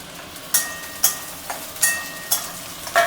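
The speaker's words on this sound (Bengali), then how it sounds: "এবার এই লঙ্কা এগুলো সব দিয়ে দেবো" Chilies and vegetables tossed into chicken chow mein frying in a pan, a steady sizzle punctuated by about six sharp scraping stirs at a regular pace, close and alone.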